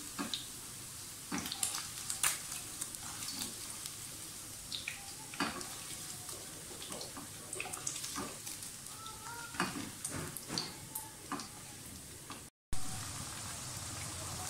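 Onions fry in ghee in a pan, giving a continuous sizzle with frequent sharp crackles and occasional stirring scrapes, fairly close and loud, with no talk.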